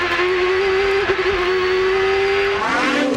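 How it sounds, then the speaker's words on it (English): Champ Car open-wheel race car at Houston powering out of a second-gear corner with wheel spin, a loud, close, sustained high-pitched engine wail holding steady before the pitch drops and shifts near the end. "Here's some wheel spin coming off the corners."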